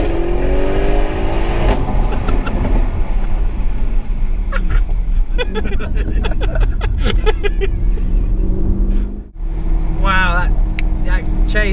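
A 2017 Audi RS6 Performance wagon accelerates hard through a quick gear change, a loud engine roar climbing then dipping sharply at the shift before pulling again, with people talking over it from inside the car.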